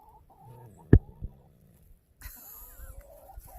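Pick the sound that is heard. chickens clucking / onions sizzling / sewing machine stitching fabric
chickens clucking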